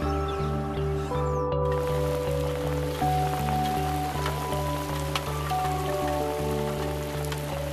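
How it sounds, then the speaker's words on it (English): Steady rain patters on a river, a continuous hiss of drops over a low, even hum that runs the whole time. "This is the rain. That's on the river."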